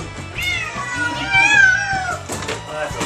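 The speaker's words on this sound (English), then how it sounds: "we have six or seven cats in the car" Several cats meowing inside a car on the way to the vet, with drawn-out, wavering cries overlapping in close succession, loud and near, over a low rumbling vehicle background.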